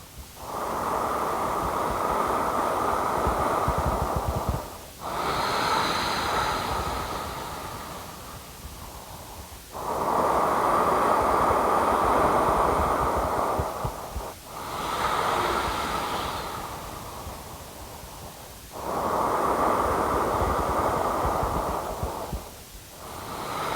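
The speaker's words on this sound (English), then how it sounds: "we'll take 3 more slow breaths here" Slow, deep breaths during a vinyasa yoga session, five long airy inhales and exhales in a steady rhythm, close and fairly loud with no talking.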